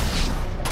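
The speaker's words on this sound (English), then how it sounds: "Grenade down." A grenade explodes in Uncharted 2 multiplayer as a dense, loud, rumbling blast that fills the whole brief moment without pause.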